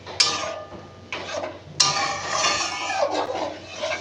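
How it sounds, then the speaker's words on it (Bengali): Tomato chutney being stirred in a pan after salt and turmeric are added: a few light metallic scrapes and clinks of a utensil against the pan, close by, in short bursts with no talking. "এটাকে একটু আমি নেড়ে দিচ্ছি।"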